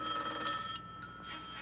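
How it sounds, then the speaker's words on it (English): A telephone bell rings in an old radio crime drama, a continuous trilling ring that stops partway and then starts again, with no talk over it. "Well, answer the phone, stupid."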